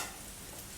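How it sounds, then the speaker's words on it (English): Spinach pies fry in a pan with a soft, steady sizzle and crackle of hot oil, faint and close. "I've got some lovely frying up until they're lovely and brown on each side"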